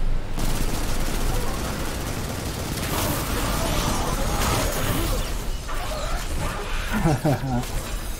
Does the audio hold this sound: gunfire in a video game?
yes